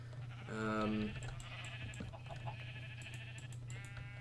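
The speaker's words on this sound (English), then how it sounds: "Get back in there, sheep." Sheep in Minecraft bleat, one clear call followed by a few shorter, fainter bleats, over a steady low background hum with no talk.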